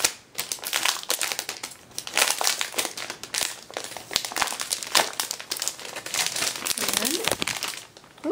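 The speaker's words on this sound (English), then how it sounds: "So we'll take the paper off of it." Paper wrapping is peeled and crumpled off a new journal, producing close, loud crinkling and rustling in bursts that continue throughout, with a voice heard faintly in places.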